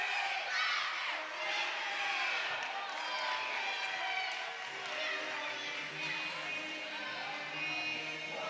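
A high school gymnasium crowd at a Wilmington versus Winton Woods varsity basketball game cheers and shouts in a steady, echoing roar, with commentator talk faintly mixed in.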